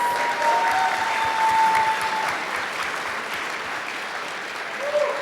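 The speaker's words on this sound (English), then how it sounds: "one more round of applause for all of the great startups" Sustained audience applause for startups at a demo day pitch event, a loud even wash of many hands clapping that holds steady and slowly thins, with a few faint tonal squeals over it.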